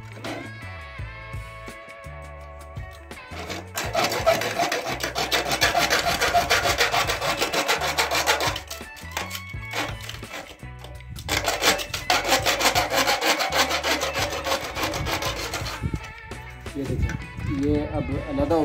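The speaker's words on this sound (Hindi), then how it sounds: "ये अब हम यहाँ से आरी ब्लेड के जरिए ये बीच से काटेंगे" A saw blade cuts through a panel while fitting gypsum ceiling work, giving long bursts of rhythmic rasping strokes that start, pause and resume, with someone talking in between.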